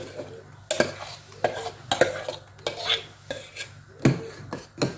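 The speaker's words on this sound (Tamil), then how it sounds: "கை விடாமல் கிளறி விடுங்க" A spoon scrapes and knocks repeatedly in a pot of thick urad dal kali dough, giving a series of rough, rhythmic strokes about every second, close and fairly loud with a low steady hum beneath and no speech.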